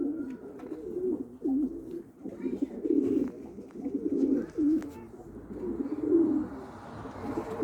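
Pigeons coo steadily near a rooftop coop on a terrace, a close, continuous run of soft, low burbling calls with no talk.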